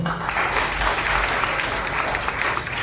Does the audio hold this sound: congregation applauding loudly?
yes